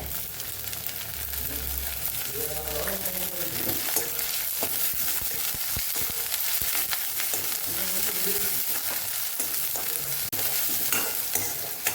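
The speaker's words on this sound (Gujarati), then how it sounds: "તો લસણ પણ સાતળી લેશું આપણે" Garlic sautéing in oil together with onion, a dense continuous sizzle close up, punctuated by frequent stirring scrapes and light taps of a spoon on the pan.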